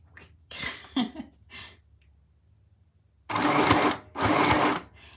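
A foot-pedal sewing machine stitching journal embellishments runs in two loud, close bursts of rapid whirring, after earlier softer mechanical clicks and pauses, with no talking.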